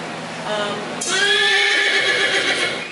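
A four-year-old mare Mustang from Goshute, Nevada, rounded up by the BLM, whinnies loudly and at length in one close, rising-then-wavering neigh that begins after a quieter moment with faint talk.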